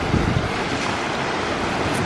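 Loud, constant roar of wind and surf, with waves rushing and buffeting the microphone, no voices heard.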